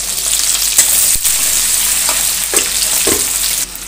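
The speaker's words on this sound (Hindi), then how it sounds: "तो अब डाल देंगे इसमें प्याज" Chopped onion sizzles loudly in a pan of hot oil with cumin and asafoetida for a peas and potato curry, a close, continuous crackle broken by a few soft stirring knocks.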